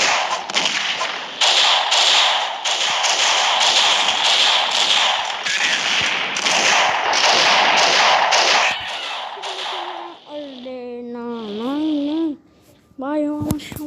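A grenade is thrown and explodes in a multiplayer video game, amid a dense run of loud repeated bangs and impacts that ends in a burst of reverberant crashes, with voices heard over the game.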